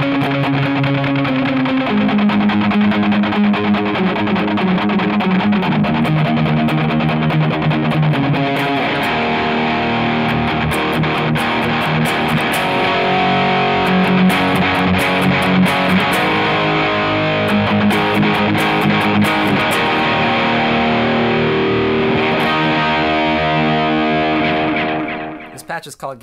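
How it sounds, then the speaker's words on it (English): Loud electric guitar through a Zoom G5n multi-effects pedal using the MS-800 loud distortion patch with dotted-eighth delay, chugging palm-muted riffs played continuously before ringing out at the end. "It's got the MS-800 loud distortion with some dotted 8 thing for some fun palm mutingness."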